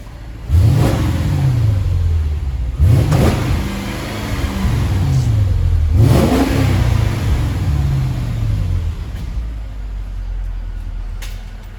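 A car with its stock exhaust starts and revs, rising engine sweeps blipping three times in quick succession, loud and close, then settling to a steady idle.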